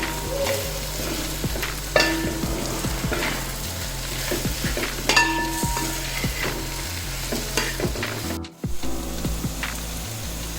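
Chili, turmeric and coriander powders stir-fry in a pan for Kerala beef roast, a constant loud sizzle with repeated spoon scrapes and clinks against the metal pan and a brief dip near the end.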